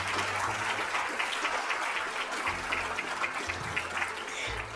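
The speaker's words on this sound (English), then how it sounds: "If we can have a round of applause for our panelists." An audience claps for panelists after a discussion on Finger Lakes wine and agritourism, a steady patter of applause lasting several seconds beneath a faint low hum.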